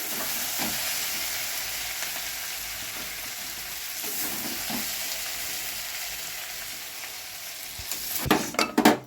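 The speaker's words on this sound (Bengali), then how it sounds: "এবার মাংসটা আস্তে আস্তে করে দিয়ে দিই ভালো কষা হয়ে গেছে" Chicken pieces being cooked into a spicy kosha with chui jhal, sizzling and frying steadily in a pan, with stirring scrapes and clatters growing louder toward the end, no talk.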